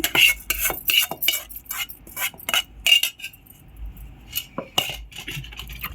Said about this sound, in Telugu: ఇట్లా మొత్తం దీంట్లో వేసి ఇట్లా రోకలతో అన్నామంటే చాలండి.